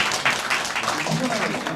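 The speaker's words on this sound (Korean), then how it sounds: "박수 크게 주세요" Audience applause at a brand forum, a short burst of clapping in a small room, with speech mixed in beneath it.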